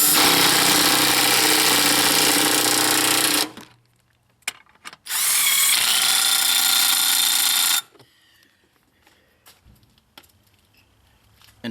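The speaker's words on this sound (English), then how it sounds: "And then tighten the bolts down." Power tool, likely an impact or drill driver, tightening bolts on a Buick Enclave torque strut mount: two loud sustained bursts of whining tool noise separated by brief clicks and handling sounds, then quieter metallic taps near the end.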